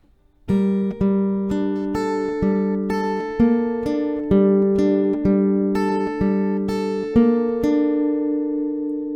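Acoustic guitar strumming chords at a slow, steady pace, each strum ringing out clearly, with no voices.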